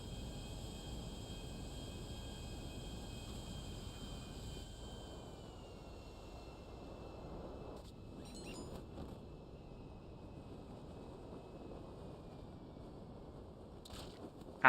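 Airplane engine in GTA Online, a steady low droning hum with high tonal whines, under occasional brief clicks and game sounds, no voices.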